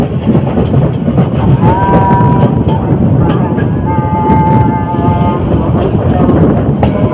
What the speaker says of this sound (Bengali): মন্দির থেকে ছাড়ার পর টুঙ্গি রেলওয়ে জংশনে প্রবেশ করছি